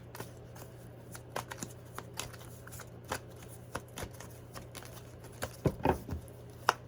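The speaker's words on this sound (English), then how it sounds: "This deck is hard to shuffle, unfortunately." A deck of tarot cards is shuffled by hand in uneven bursts of close, crisp riffling and slapping, with a denser flurry of card sounds near the end and no speech.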